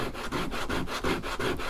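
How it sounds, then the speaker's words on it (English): Sandpaper rubs back and forth over the edges of a leather Bowie knife sheath in quick, steady rasping strokes, close and continuous, with no voices. "But just keep sanding and sanding and sanding till they're nice and smooth"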